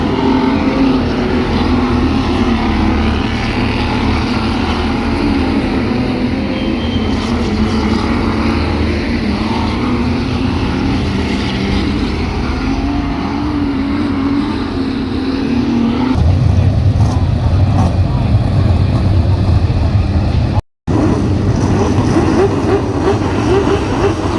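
Stock cars race at an Auckland speedway during Superstock Team Nationals, a continuous loud roar of many engines that swells and shifts, cutting out for an instant near the end.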